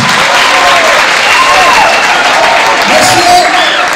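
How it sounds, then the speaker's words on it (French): Loud, continuous audience applause at a gathering in Gabon, sustained throughout with a few faint voices or cheers audible inside the clapping. "On applaudit."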